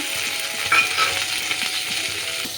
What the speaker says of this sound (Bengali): দিয়ে দিচ্ছি টমেটো কুচি